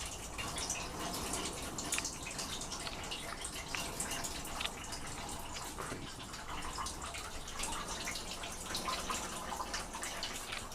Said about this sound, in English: Like dripping.